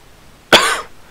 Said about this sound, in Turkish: konuştukça daha fazla öksürüğüm geliyor